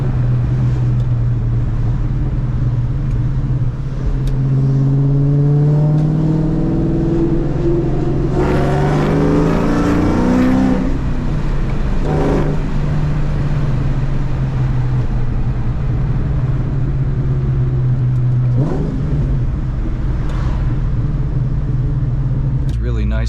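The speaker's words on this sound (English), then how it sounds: "The exhaust sounds really nice." A straight-piped Terminator car exhaust drones loudly from inside the car. Midway it climbs into a hard, rising rev before settling back to a steady rumble, with a brief second surge near the end.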